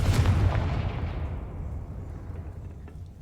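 Fiery blast of the Confringo spell in the video game Hogwarts Legacy, a loud low-heavy boom at the start that trails off into a fading rumble, with no talk.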